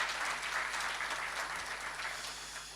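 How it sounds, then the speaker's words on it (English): An audience applauding a keynote speaker at a high-level consultation meeting between the Arab Coordination Group and the AfDB: even, sustained clapping from a hall, fairly faint and slowly fading, with no voices over it. "let's give another round of applause to our keynote speaker"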